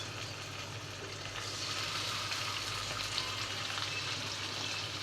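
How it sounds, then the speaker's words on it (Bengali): Pabda fish shallow-frying in hot oil in a home kitchen on a rooftop, a faint continuous sizzle and crackle that swells slightly and holds steady with no talk. "ভেজে নেব পাবদা মাছটা"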